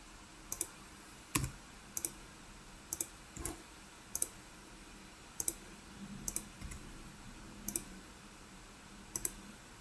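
A computer mouse clicks sharply about a dozen times at an irregular, unhurried pace, each click crisp and close in an otherwise quiet room.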